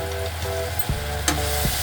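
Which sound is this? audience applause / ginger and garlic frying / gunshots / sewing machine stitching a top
ginger and garlic frying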